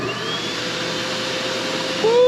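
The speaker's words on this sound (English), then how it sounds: "We're gonna push this bubble button and it's gonna start pushing air from the air compressor into that one-way valve right there" An air compressor pushes air through a one-way valve into a RELXTIME Classic 4-6 person inflatable hot tub, giving a loud, steady, close whirring roar that holds level with no break and rises slightly at the end.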